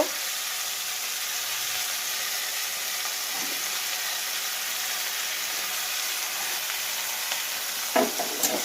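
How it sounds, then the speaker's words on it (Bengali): Chopped onion fries in oil with a constant, even sizzle and hiss, joined near the end by a couple of short stirring clatters, with no speech. "এবার একটু ভাজা ভাজা হয়ে গেছে"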